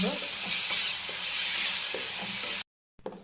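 Jackfruit halwa paste stirred in ghee in a pan, a continuous close sizzle with spoon scraping strokes, then a brief cut to silence before the frying resumes.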